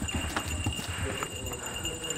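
Horses' hooves clip-clop on a farm as the animals run from goats, a brisk irregular patter of steps mixed with low rumble and light background noise.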